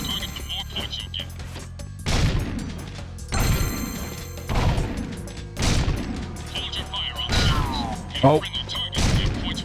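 Scatter-gun blasts from a shooting-range target course in a video game sound as several loud, spaced shots with crashing impacts, heard over game music and a voice talking.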